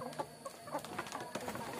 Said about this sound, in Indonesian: Ada ayam sahabat tuh.